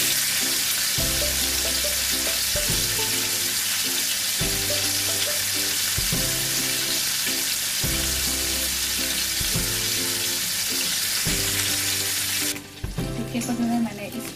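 Chicken tikka frying in a pan, a steady loud sizzle and crackle throughout with a regular repeating low rumble, briefly changing near the end as if the pan is shifted.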